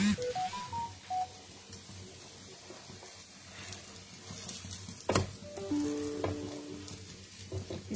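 Shallow frying food sizzling steadily in a pan in a home kitchen, with stirring clatter and a few beeping tones midway; no talking.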